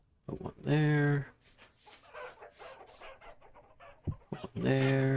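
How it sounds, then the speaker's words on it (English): Chickens cluck and squawk in a farming survival game, with loud harmonic squawks at the start and end and busier clucking between them, close and clear. "Sorry, chickens. I didn't mean to freak you out like that."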